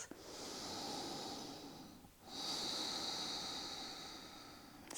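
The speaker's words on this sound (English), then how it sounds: "deep breaths" Slow, deep breaths during a cool-down stretch for runners and cyclists, two long airy breaths with a brief pause between them, close and steady with no talking.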